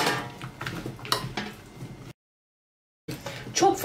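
Sliced zucchini being stirred with vegetable oil, salt, black pepper and red pepper flakes before baking, giving close, irregular scraping and clinking of utensil against dish, broken by a brief silent gap.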